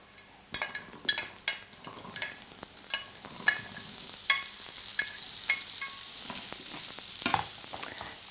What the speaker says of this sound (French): Dans une poêle bien chaude, je mets un filet d'huile d'olive, puis je verse les carottes.